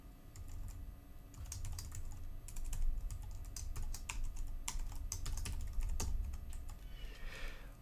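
Rapid clicking of typing on a computer keyboard, irregular bursts of keystrokes at close range, quiet and without speech.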